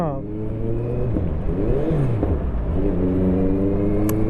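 Honda CBR650F motorcycle engine revving while riding, a steady mid-pitched drone that rises and falls with throttle changes, loud and continuous with talk over it.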